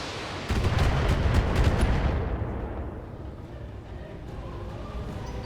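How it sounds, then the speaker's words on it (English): Short-range missiles and an autocannon fire in a BattleTech mech battle, a loud, close booming salvo with rapid sharp cracks that rolls into a fading rumble, with no talking. "best he can do is just fire his SRMs as AC-10"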